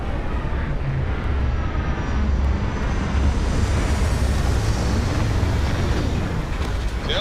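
A spaceship's landing sequence in the Starfield video game gives a loud, steady engine roar and rumble with a rushing hiss that holds constant from start to finish.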